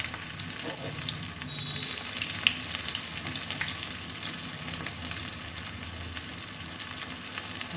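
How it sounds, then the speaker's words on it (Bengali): Pumpkin leaf pakoras deep frying in hot oil over medium heat, a dense continuous crackling sizzle, close and steady throughout with no voices. "উল্টে পাল্টে আমি লাল করে ভেজে নিলাম।"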